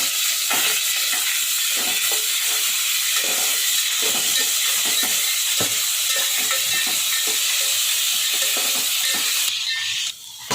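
Curry leaves sizzle loudly in hot oil in a pan for mushroom curry, a dense steady frying hiss with faint stirring scrapes, close up and continuous until it drops away at the very end.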